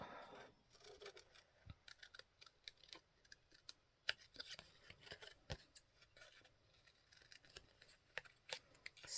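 Scissors snipping a paper sticker saying on a book-page journal card, a quiet string of short sharp clicks and snips scattered unevenly over a faint background, with no talk.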